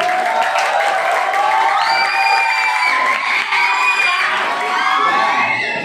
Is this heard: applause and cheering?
yes